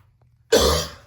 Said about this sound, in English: Again, I cough.